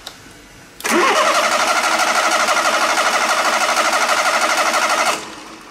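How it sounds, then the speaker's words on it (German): A fire engine's motor cranks over loudly during a starter test, with a fast, rhythmic churning that runs for about four seconds, then cuts off abruptly. "indem wir den Motor starten."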